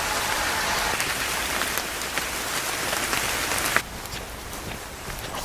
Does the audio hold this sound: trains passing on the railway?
no